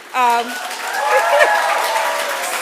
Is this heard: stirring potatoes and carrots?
no